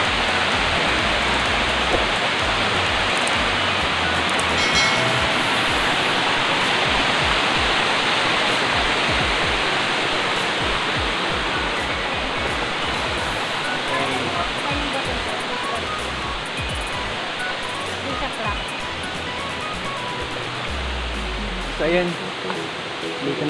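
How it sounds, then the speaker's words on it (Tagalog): Ansyong Falls in Barangay Mangkasay, Paracale, Camarines Norte, a waterfall pouring in a steady, dense roar that fills the whole scene from start to finish, with no pause or change in level. "imamontage muna natin tong Ansyong Falls ng barangay Mangkasay"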